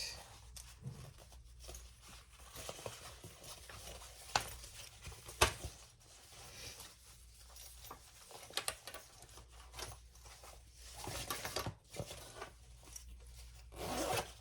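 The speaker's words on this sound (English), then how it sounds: "now let's close up the zipper" A zipper is drawn closed on a handmade crossbody bag, with short scratchy pulls and rubbing handling noises repeated over several seconds. The sounds are fairly faint and nearby, with no talking.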